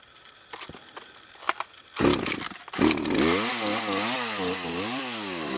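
A chainsaw cutting into an alligator juniper log during an outdoor harvest: a few knocks and a sharp start, then the saw roaring loud and close, its pitch rising and falling in a repeating pattern as it bites through the wood.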